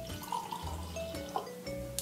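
Homemade cold brew coffee pours from a glass bottle into a glass, a quiet trickling and splashing stream with small drips and clinks near the end, close by with no talking.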